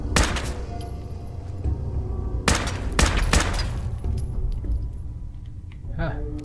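Fallout 4 gunfire, a few sharp shots that come at irregular intervals with loud cracks at the start and in a tight cluster mid-way, over low ambient rumble and a light metallic jingle.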